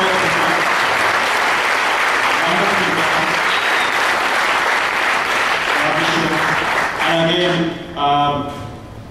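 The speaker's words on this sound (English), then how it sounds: "So just want to give a big round of applause to the entire team of Mobitel" A conference crowd at a Google I/O Extended event in Colombo applauds the Mobitel team, loud sustained clapping from many people with faint voices murmuring underneath, thinning out near the end as speech emerges.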